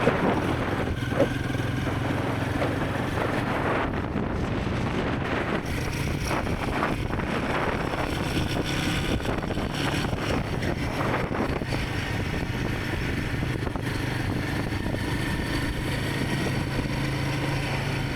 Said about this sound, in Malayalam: ചുറ്റിലും കാറ്റ്, ചുറ്റിലും കാറ്റ്.